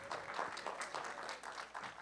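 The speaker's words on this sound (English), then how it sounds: "Clap for them." Audience at a senior talent show applauds, a faint, somewhat distant patter of many hands that carries on steadily.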